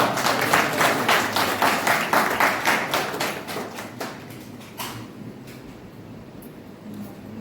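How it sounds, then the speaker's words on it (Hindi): Theatre audience applause at a Hindi play's opening programme, a dense burst of clapping that swells loud then thins into scattered claps and fades out. "एक बार जोरदार तालियां"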